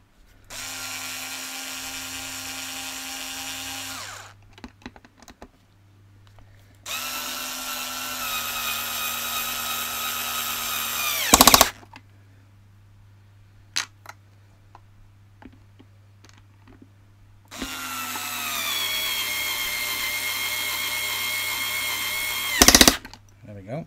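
A power tool whirs in three sustained bursts, each ending in a sharp tightening clunk, as screws are driven into a Hoover Aquamaster S4470 vacuum, with a low steady hum and small clicks between runs.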